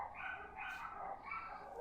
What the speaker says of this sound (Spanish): Estoy dejando que se graben los perritos para luego borrarlo,